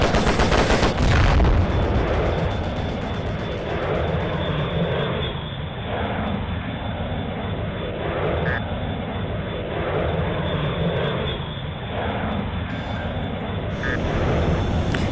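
Fighter planes roar overhead in a video game while bombs and gunfire hit tanks, a loud continuous engine drone with a sharp burst at the start and rhythmic swells of firing throughout, and no talk.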